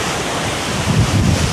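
Rough ocean waves surge and crash off Izena Island, Okinawa, ahead of an approaching typhoon under a high-surf warning, a loud continuous roar with heavy wind buffeting the microphone and a swelling wave near the end.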